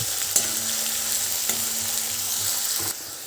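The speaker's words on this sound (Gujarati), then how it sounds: "હવે એને આપણે મીડિયમ ફ્લેમ ઉપર ત્રણથી ચાર મિનિટ સુધી સંતળાઈ સાંતળીશું" Chopped onions sautéing in oil in a pan over a medium flame for a chana dal curry, giving a steady close sizzle with occasional stirring scrapes, alone without talk.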